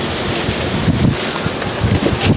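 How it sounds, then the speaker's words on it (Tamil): Steady breeze blowing across the microphone along the Girivalam path around the hill at Tiruvannamalai, a continuous rushing wind with gusts swelling and easing throughout, no voices. "சுகமான காற்று"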